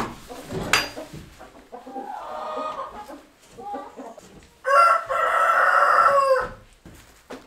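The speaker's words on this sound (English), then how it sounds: "the rooster just popped up over across my shoulder there" A rooster on a farm keeping heritage chicken breeds crows nearby, a loud drawn-out call near the end after a shorter earlier crow, with clucking hens and someone talking in the background.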